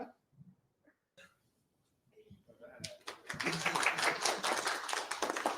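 Audience applause at a live stand-up comedy show in Vancouver, swelling from scattered claps into a loud, dense ovation that fills the room, with a few faint voices beforehand.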